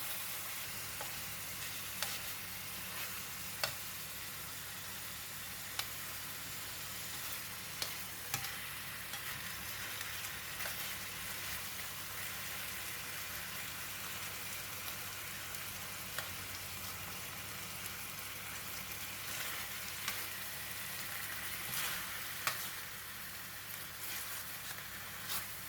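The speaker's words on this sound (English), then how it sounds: "Continuously turn the pork belly for 4 minutes until the edges are well seared and" Pork belly pieces searing in a hot pan, turned continuously until the edges seal, giving a long even sizzle broken by occasional light ticks and scrapes, with no talking.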